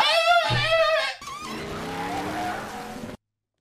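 A car's tires squealing and skidding, a loud harmonic screech that wavers for about a second, then breaks into a rougher, noisier scrape that runs until an abrupt cutoff.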